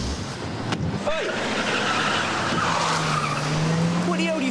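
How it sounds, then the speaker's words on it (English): During a police flying squad chase, car tires squeal in a long skid under steady traffic and engine noise, with brief shouted voices near the start and end. "From DI Lomax, get after that car."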